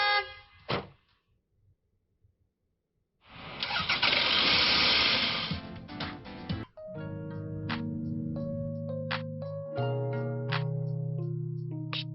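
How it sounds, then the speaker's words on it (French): A car engine cranks and catches with a loud roaring surge, settles briefly, then idles while a horn sounds in a series of clear tonal honks, short and longer blasts close by. "démarre ta voiture"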